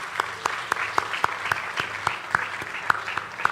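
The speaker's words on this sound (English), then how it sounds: "Please, a resounding round of applause." Sparse, light applause, soft and somewhat distant, with individual claps popping out at irregular intervals over a steady patter.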